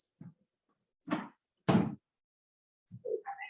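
Drawer opened to fetch yoga straps in a hatha yoga class: a few short wooden knocks and slides, the loudest near the middle, then quieter rustling and shuffling at the end.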